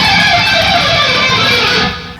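Fast, sloppy alternate-picked guitar with smeared, indistinct notes in a dense continuous strum that stops abruptly near the end.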